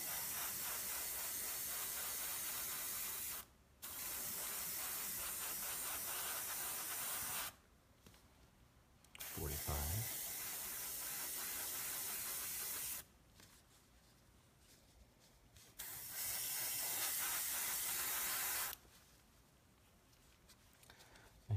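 An airbrush sprays green paint in long hissing bursts separated by short pauses, a steady bright airy spray close to the listener, with no one talking.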